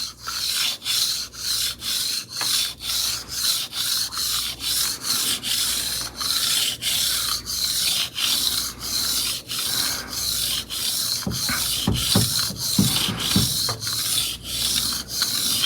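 Kitchen knife being sharpened on a Venev diamond resin whetstone, steady rhythmic back-and-forth scraping strokes repeating about every half second, close and loud, with a few soft knocks near the end and no talking.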